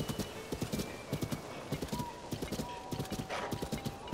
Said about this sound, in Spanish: Qué gran caballo.